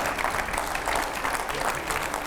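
Studio audience applause welcoming a guest to a live Hindi news panel, a steady dense clapping wash with faint crowd murmur, continuous and fairly distant.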